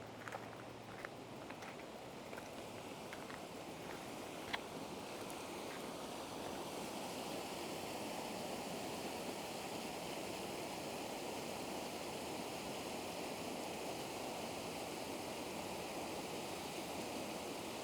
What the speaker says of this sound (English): let's go look at the creek over on this side real quick